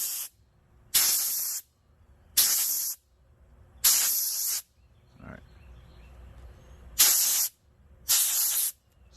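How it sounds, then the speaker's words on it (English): Compressed air blows through a two-stroke carburetor in six sharp, loud hissing blasts of about half a second each, separated by brief quiet gaps with faint handling noise. "to clean this out, I take my compressed air and just"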